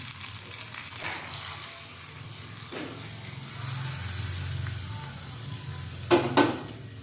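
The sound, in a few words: tempering of mustard seeds, curry leaves, chili sizzling in oil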